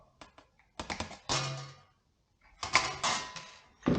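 Aluminium sheet for a valve box cover being cut, heard as clusters of sharp clicks and short scraping crunches at close range, in two bursts separated by a brief quiet gap.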